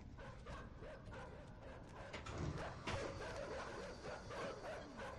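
Dogs bark and yip in the dark side-scrolling puzzle game Inside, a steady, busy bed of barking and whimpering over game ambience with no talk.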